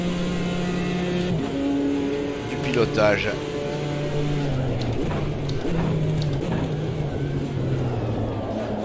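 A BMW M4 GT4 race car in the racing game Automobilista 2, its engine revving and pulling through gear changes with rising and dropping pitch, steady and close, while someone talks over it.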